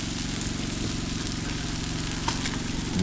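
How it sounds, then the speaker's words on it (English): Eggs and bacon cook on a camping grill, giving a constant crackling sizzle over a low, steady engine-like hum, with a brief clink near the end. "We got some eggs and bacon and stuff cooking on the grill."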